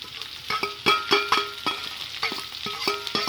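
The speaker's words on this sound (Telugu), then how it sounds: "తురిమి పెట్టుకున్న కొబ్బరి కూడా వేసి ఇది కొంచెం ఫ్రై అవ్వాలి" Grated coconut fries in a pan for a banana-flower curry, a spoon stirring it in repeated quick scraping strokes over a soft sizzle, close and steady, with no voices.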